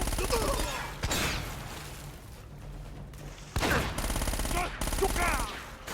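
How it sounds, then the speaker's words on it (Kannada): Shotgun blasts ring out in Uncharted: Drake's Fortune, with two loud, booming shots standing out against steady background gunfire and game effects. "ಶಾರ್ಟ್ ಗನ್ ಇದೆ ಅವನ ಹತ್ರ."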